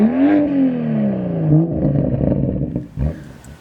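A BMW M2 fitted with an M Performance exhaust, valves open, revs loudly nearby, its rising and falling engine note roaring alone before a deeper second burst.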